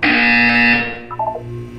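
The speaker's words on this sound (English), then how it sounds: "When you hear the buzzer, look down at the floor." A loud, harsh electronic buzzer sounds in a Portal 2 test chamber, a single sustained blare lasting under a second before cutting off into a quieter tonal tail.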